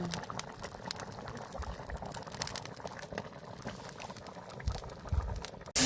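Soft, continuous bubbling and gurgling of curry broth boiling in a pot, low and steady throughout with no voices.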